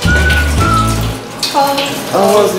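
Tap water runs and splashes at a campsite in Yangpyeong, Korea, close and loud, with people talking over it.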